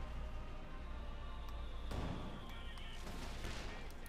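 Mortar fire and explosions in a Company of Heroes 2 match, with a steady dense rumble of battle punctuated by bursts and blasts, a louder impact near the middle, with commentary-like voices faint beneath.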